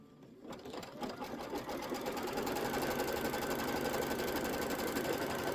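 A Kimberbell embroidery machine starts up and settles into a tack-down, producing a fast, steady mechanical stitching buzz that holds constant and fairly loud once it gets going.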